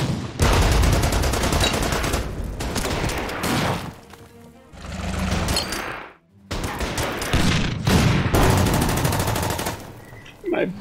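Heavy gunfire pours onto a StuG assault gun in a WWII strategy video game, with loud, dense machine-gun bursts and crashing impacts that break off briefly twice before resuming.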